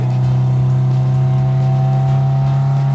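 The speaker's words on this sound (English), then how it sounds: "It's a great sounding engine, seriously." Engine of a 1965 Volvo P1800S running steadily with a strong low droning hum and faint rises in revs, loud and close, with no voices.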